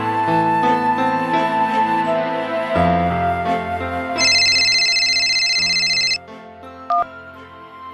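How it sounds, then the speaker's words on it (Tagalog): A phone ringtone plays loud and close during a call, a bright melodic electronic tune with a sustained high chime in the middle, ending abruptly with a short beep. "Tinawagan ko siya via drop call ng mga oras na yon."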